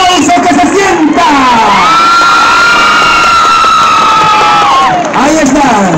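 A crowd at a Dominican school flag-bearer parade for 27 February cheers loudly, with whoops and shouts rising in sustained waves and piercing tones sliding over the noise.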